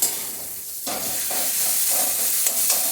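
Spice paste for a taro-leaf dish sizzles steadily in a pan, broken by several stirring scrapes and bursts of hiss, close and fairly loud with no talking.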